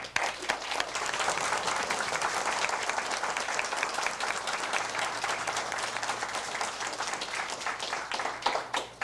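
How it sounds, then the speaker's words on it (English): Sustained applause from an audience at a political workshop honoring Sheriff Perry Grogan, dense steady clapping filling the room for the full stretch without a break. "We're going to ask you to stand and give you a round of applause."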